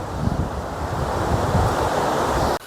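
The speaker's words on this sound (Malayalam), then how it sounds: "കാറ്റ് എന്ന് വെച്ചാൽ ഭയങ്കര കാറ്റാണ്" Strong, gusty wind beside a dam, a steady roar of loud rushing air and microphone buffeting that holds for nearly the whole stretch, then cuts off abruptly just before the end.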